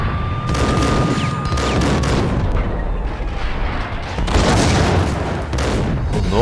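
Explosions and gunfire in the Max Payne video game: heavy booms and crackling volleys of shots come in dense bursts, loud and close, over a continuous rumble of battle noise.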